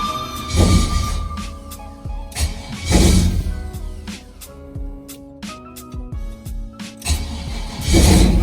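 A car engine with the MAF, MAP and O2 sensors not installed cranks outdoors in the cold, in several separate bursts of starter grinding that fail to catch, with brief pauses and mechanical clicks between the attempts.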